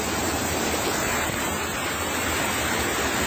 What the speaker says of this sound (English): I somehow winded my way down into this gorge with this huge waterfall.